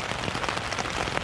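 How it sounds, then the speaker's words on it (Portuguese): Heavy rain pounding a tent at a Wacken metal festival campsite before dawn, a dense close patter of drops with sharper hits against the fabric and no talking. "estão ouvindo aí o barulho da chuva"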